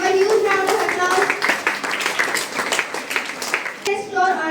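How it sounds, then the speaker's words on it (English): Applause and clapping fill a school investiture ceremony, bursts of hand claps mixed with children's voices and an announcer talking over the crowd. "Give a huge round of applause, everybody."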